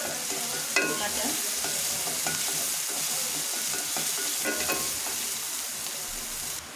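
Onions frying on a stovetop make a steady, close sizzle with brief stirring scrapes and clatters, and no voices are heard.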